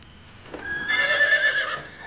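A horse gives a loud, close neigh lasting about a second, preceded by a faint hoof clop, with no talking over it.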